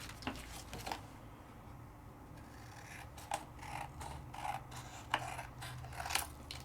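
Scissors snip and slide through card stock while cutting out card backgrounds, a run of soft close crisp cuts and rustling paper in an irregular rhythm, quiet with no talking.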